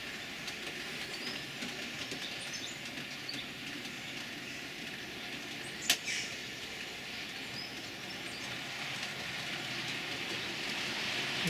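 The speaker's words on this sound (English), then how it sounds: "So I'll let that train run round now." A model train rolls steadily around a layout track past a fiddle yard with a continuous rumble and soft clatter, one sharp click midway, no voices.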